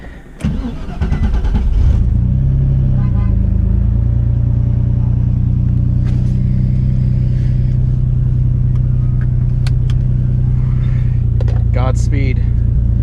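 A turbocharged Nissan G35 at a race day starts up and settles into a loud, steady engine rumble close by, with brief voices over it.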